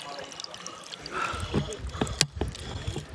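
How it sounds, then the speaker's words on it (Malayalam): Water pours into a bottle at a quarry pond, making soft, close gurgles and small splashes in short, uneven bursts. "ആ വെള്ളം നിറയുന്നുണ്ട് കേട്ടോ."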